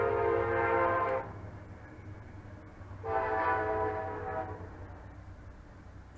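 A train passes, its horn sounding in two long blasts separated by a pause, over a steady low rumble of rail traffic at moderate distance.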